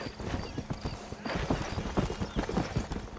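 Galloping horse hooves in Red Dead Redemption pound in a fast, rhythmic clip-clop, close and steady with faint mechanical clinks of tack mixed in.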